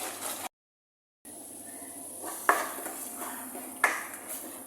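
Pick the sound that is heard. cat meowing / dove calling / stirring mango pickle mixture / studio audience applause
stirring mango pickle mixture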